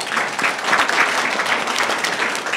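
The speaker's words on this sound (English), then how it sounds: "Clap your hands if you agree." An audience at a civic forum claps together in agreement, a steady burst of dense hand-clapping filling the room for a few seconds with no talk over it.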